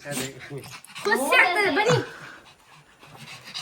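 Several dogs dash about, panting and letting out a rising whimpering whine in the middle, close by and mixed with people talking.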